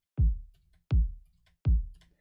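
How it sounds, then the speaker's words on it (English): Three layered trap kick drums, a punchy mid-range hit stacked over a deep low kick, strike one after another at an even pace, each with a sharp attack and a booming decay, loud and dry. "I want like a really punchy, like mid range hit, and then I want a really low kick"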